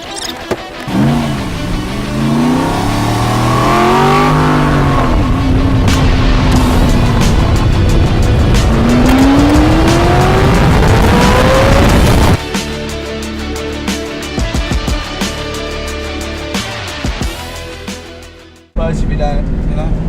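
A car engine revs and strains as it is driven hard, with rising and falling pitch sweeps and some squealing, loud and close throughout.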